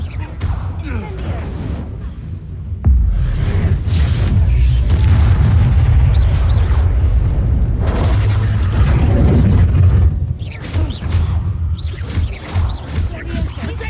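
A loud, roaring blast of fire from the Incendio spell in the wizarding game Hogwarts Legacy, with sustained low rumble, whooshing flame and crashing impacts, and a voice speaking over the combat.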